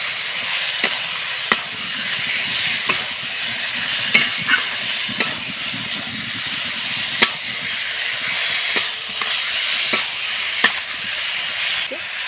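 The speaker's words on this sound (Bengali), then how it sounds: "ভাজা বেগুনগুলো ঢেলে দিলাম।" Fried eggplant sizzles in spiced oil in a pan, a steady close hiss broken by regular sharp clicks of a spatula stirring and scraping, with no talking.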